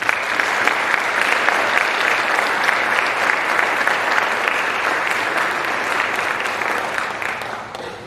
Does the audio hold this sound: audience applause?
yes